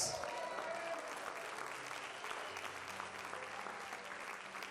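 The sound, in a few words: applause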